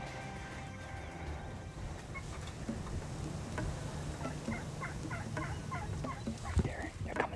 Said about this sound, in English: we heard two gobblers right in here